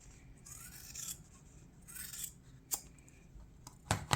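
Scissors cut across a notepad to make a gift, with quiet close snipping and rasping paper strokes, a few sharper snips standing out, the last near the end being the loudest.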